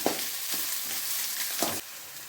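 Cabbage and bell peppers frying in a pan for fried rice, a loud steady sizzle up close with occasional scraping stirs, and no talk.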